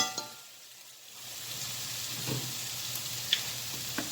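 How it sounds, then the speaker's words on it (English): Onions sauté in a pan for brown gravy in a home kitchen, a steady soft sizzle and hiss with occasional faint pops and stirring clinks. "So you go ahead and saute these down."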